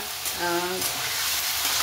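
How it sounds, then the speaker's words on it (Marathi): Paneer fries in hot oil, a steady loud sizzle for a couple of seconds, with a brief faint voice over it early on. "तर बघा आता आपण मस्त याला फ्राय करून घेणार आहेत"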